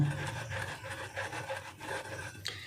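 A peeled ripe mango is rubbed by hand to scrape out the pulp, making soft, quiet, repeated rasping strokes at close range.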